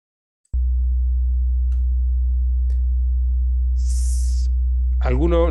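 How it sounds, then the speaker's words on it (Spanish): A steady 62 Hz sine test tone starts abruptly after half a second and hums on loud and unbroken, with brief faint ticks and a short burst of hiss, and a voice briefly speaking at the very end. "Una frecuencia de 62 Hz suena así."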